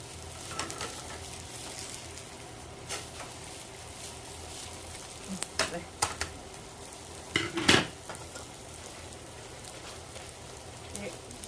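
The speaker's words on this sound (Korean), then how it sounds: "파 넣어서 마지막 파불고기 완성하겠습니다." Pork bulgogi with green onions stir-fries in a pan, a steady sizzle under intermittent scraping and clinking of utensils against the pan, with a few louder stirring knocks near the middle.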